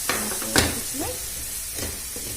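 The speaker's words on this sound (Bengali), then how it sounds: "আমি মশলাটা ভালো করে ভেজে নেব" Spice paste for a chicken curry sizzling and being stirred in a pan, a steady hiss with a few sharper scrapes and clinks from a utensil near the start.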